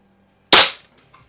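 A single sharp, loud crack from an RWS Diana LP8 air pistol firing a flat-nosed Meisterkugeln pellet into plywood, followed by a faint brief tap and quiet afterward.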